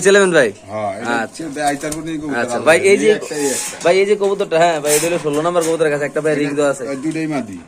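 Caged pigeons for sale coo in the background beneath someone talking loudly and continuously up close, their low murmuring mostly masked by his voice.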